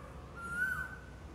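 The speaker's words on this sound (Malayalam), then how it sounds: "കുയിലിൻ്റെ ഒക്കെ പാട്ട് കേൾക്കാം" On a leafy college campus in Kottayam, a single whistled bird call, likely an Asian koel, rises and bends once, fairly faint over a low background hum.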